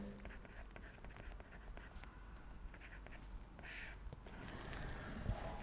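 Marker or chalk scratching and tapping on a board in a quiet lecture room, faint scattered strokes through the clip with low room noise and no talk.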